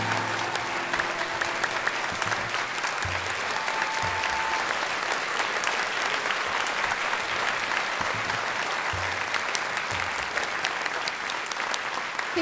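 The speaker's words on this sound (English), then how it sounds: "Let's have a huge round of applause" An audience at the Great American Think-Off event gives a sustained round of applause, dense steady clapping with a few cheers, lasting the whole stretch at an even level.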